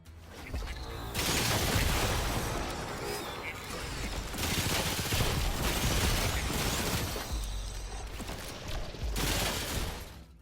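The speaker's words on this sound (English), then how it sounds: "The first time you're able to fire off your weapon, it's satisfying from the sound of your guns down to the impact of them" Gunfire in the third-person shooter Remnant 2, with dense bursts of shots and impacts running loud and steady across most of the stretch, easing briefly before a final flurry.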